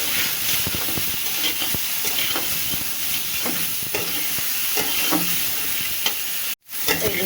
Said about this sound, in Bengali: লবণ দিয়ে একটু নাড়াচাড়া করে নিই